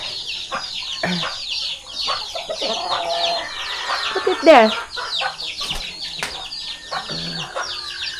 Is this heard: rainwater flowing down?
no